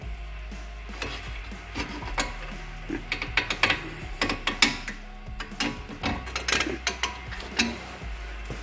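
A ratchet wrench tightens the front brake caliper bolts on a 2017 Opel Astra, giving quick, uneven runs of close metallic clicks over a low background hum.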